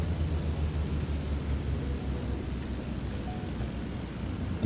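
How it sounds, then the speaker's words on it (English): Steady broadband wind rush and low rumble of air streaming over a BN-2 Islander twin-engine aircraft in flight with both engines shut down, Microsoft Flight Simulator 2020; a continuous, even whoosh with no engine drone. "see if we can hear just the air flowing through the airplane without engines"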